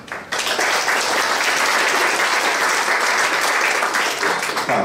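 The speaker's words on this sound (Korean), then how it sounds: "다시 한번 유달사 대기에게 큰 박수 부탁드립니다" Loud, dense applause from the crowd at a Bomun High School class 26 fortieth graduation anniversary gathering bursts in after a brief quiet moment and holds steady to the end.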